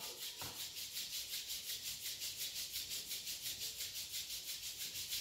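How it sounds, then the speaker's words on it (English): Palms rub together steadily in a quiet room, a soft, rhythmic hiss of skin on skin repeating several times per second, close and continuous throughout. "Rub your both palm."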